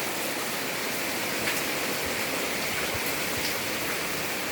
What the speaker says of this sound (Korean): 빗방울 소리가 살짝 작아지니까 물 내려가는 게 금방 양이 줄어요